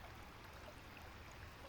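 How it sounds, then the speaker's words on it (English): Water in a natural stream flows steadily outdoors, a soft, continuous rushing and babbling wash with no voices, even and unbroken throughout. "The sound of this flowing water reminds me that life continues to move gently and gracefully."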